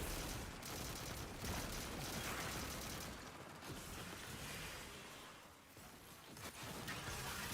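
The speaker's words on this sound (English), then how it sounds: "So I'm just gonna start shooting machine gun stuff" Machine-gun fire in the video game Destiny crackles as a dense, continuous stream of rapid shots with mechanical clatter, steady and sustained throughout, fairly quiet with no talk over it.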